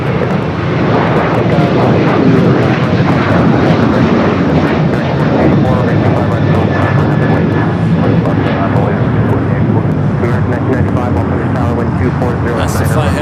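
A jet airliner passes at LAX airport, a steady, loud broadband engine roar sustained throughout without letting up, close and dominant, with no talk.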